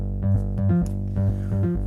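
A dry synth bass patch from Nexus, with no effects, plays a short repeating pattern of deep, buzzy notes with a soft attack, loud and alone over a sustained low drone.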